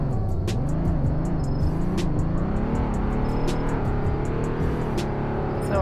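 A car drives in the Roblox game Greenville at night, its engine droning and shifting pitch steadily as it revs up and down, loud and continuous, with brief higher clicks over the top.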